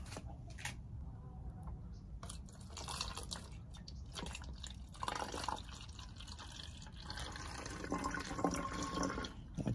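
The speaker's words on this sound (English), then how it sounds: "Mineral water that I'm putting." Mineral water poured out in a backyard, a faint, steady trickle and splash with small drips that grows a little fuller toward the end, with no talk.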